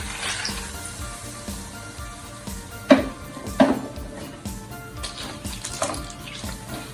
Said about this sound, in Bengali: পাস্তাটা দিয়ে দিচ্ছি, দুধটা দিয়ে দিচ্ছি।